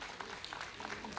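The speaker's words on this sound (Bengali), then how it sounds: "আমরা জোরে একটা হাততালি দেব" A crowd at a gathering gives a brief round of applause, a soft, fairly distant patter of clapping lasting about a second, with faint voices mixed in.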